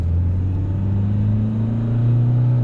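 Isuzu D-MAX 1.9 Hi-Lander four-door raised pickup with a 150 hp engine at full throttle at night, a loud steady engine drone from inside the cab whose pitch slowly rises, no talk.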